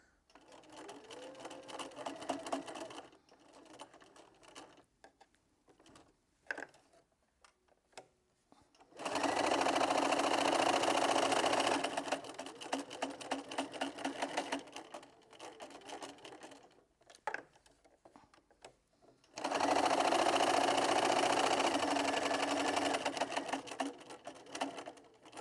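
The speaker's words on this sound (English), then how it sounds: "I'm going to start just past the centre and I'm just going to do a reverse stitch" A sewing machine stitches a reverse-stitch seam on a fabric Christmas tree decoration, running in two long, loud, steady bursts separated by quieter handling noises, with no talking.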